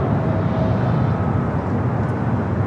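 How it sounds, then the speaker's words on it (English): Korean Air Cargo Boeing 777 freighter rolling down the runway at Los Angeles airport, a steady broad roar of jet engines at a distance, constant and unbroken. "Korean Air Cargo 777 freighter rolling down at 25 at left"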